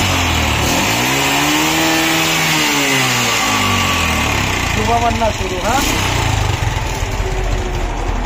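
Yamaha Crux motorcycle with an engine sound problem, its engine cranking and catching, then revving up and down in sweeping bursts before settling into a rough, steady run, while someone talks over it.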